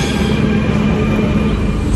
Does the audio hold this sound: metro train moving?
yes